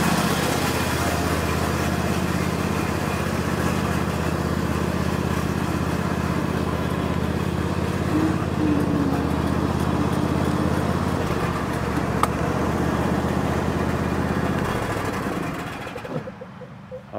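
A steady car engine drone runs continuously for the whole stretch, loud and unchanging, then fades abruptly near the end.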